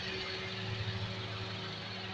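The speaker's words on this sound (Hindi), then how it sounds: "तो ये भी टोयोटा का 1000 सीसी इंजन है" A 2021 Toyota Vitz with a 1000cc engine idles, a steady low hum with faint rhythmic pulsing, close and continuous with no talk.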